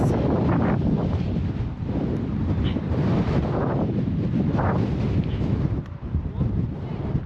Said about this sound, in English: So the wind is blowing me.